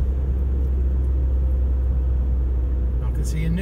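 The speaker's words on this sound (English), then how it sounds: "So I'm just speeding up a little bit." Car accelerating gently on a road, a steady close engine rumble with road noise throughout, and a brief higher chirp near the end.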